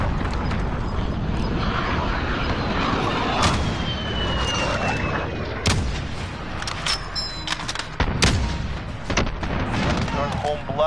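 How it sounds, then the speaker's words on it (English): A cruise missile strike in Call of Duty sounds amid loud chaotic battle noise: booms, gunfire and a rising whoosh, with voices heard over the din. "Allied cruise missile launched."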